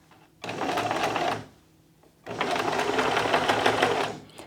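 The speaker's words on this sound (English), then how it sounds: "just make sure you keep the 9-patch arranged in the right position, and then begin stitching" A sewing machine stitches the pieces of a nine-patch quilt block for a bear paw quilt, running in two close bursts, a short one and then a longer steady one, with a brief pause between.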